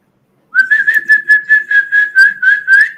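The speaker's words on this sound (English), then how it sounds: "that is not my mom's whistle" A person whistles a steady, high pitched tune to animals in a long run of about a dozen quick rhythmic pulses, loud and close, with no other sounds.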